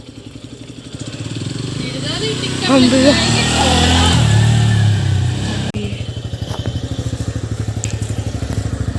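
A motorbike or scooter engine running outdoors with a steady rhythmic putter, rising louder midway as it is ridden nearby, while people talk over it.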